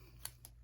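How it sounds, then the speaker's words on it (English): A pair of scissors picked up while sparkler orders are sorted into pink bags, making two short, faint metallic clicks a fraction of a second apart over steady low background hum. "I need to grab a pair of scissors."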